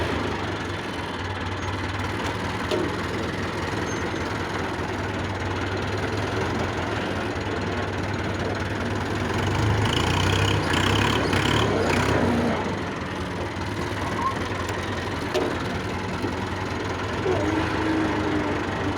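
A Massey Ferguson 285 tractor engine runs steadily at close range, a low chugging drone that swells slightly in the middle before settling again.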